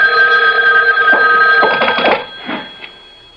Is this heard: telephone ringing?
yes